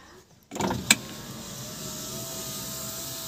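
A car's repaired power window glides down smoothly: a click, then a steady, quiet electric motor whine that runs evenly for about three seconds.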